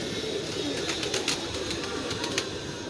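A caught pigeon coos softly and repeatedly, in a few brief low calls over steady background noise, with no voices.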